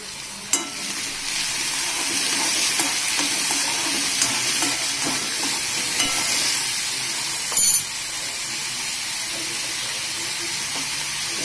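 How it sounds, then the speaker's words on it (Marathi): Onion and tomato sizzle in a hot pan while being turned, a constant hissing crackle broken by occasional spoon scrapes and one brief sharp clink, close and steady with no speech. "हा कांदा टमाटा मी जास्त फ्राय करणार नाही, असाच कच्चा ठेवणार आहे, फक्त हलवून घेते"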